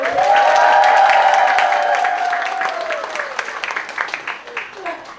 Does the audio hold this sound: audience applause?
yes